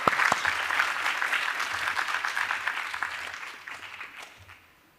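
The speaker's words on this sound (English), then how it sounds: "Where's my applause, my Moroccan friend?" An audience at a conference applauds after a speech, a burst of clapping that holds steady for a few seconds, then tapers off and fades out.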